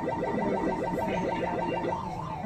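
A fast, repeating warbling electronic alarm tone from an NES game, steady and loud, cycling rapidly up and down without pause like a sped-up emergency siren.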